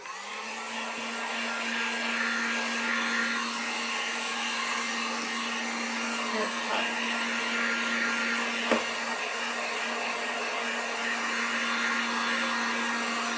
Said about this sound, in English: I'm gonna get our heat gun